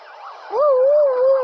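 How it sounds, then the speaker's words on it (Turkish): A video game police car siren wails in a steady rising and falling tone, fairly loud and close, with no talking over it. "Aha polis arabası"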